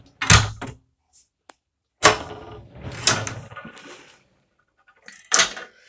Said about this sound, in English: Sliding pocket door. Locks open